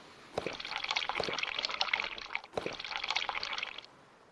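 Water pours into a cup in the video game Sailwind, a steady close splashing trickle running for several seconds, briefly interrupted by a small clunk before pouring again, with no talk.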